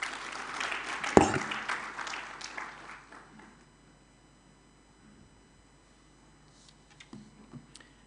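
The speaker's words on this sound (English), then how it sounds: "Another round of applause to appreciate the Honorable Chief Justice" Audience applause at a Kwibuka 30 conference of the Rwanda Bar Association: a burst of clapping that peaks early, then thins and dies away within about three seconds, leaving a quiet room with faint scattered noises.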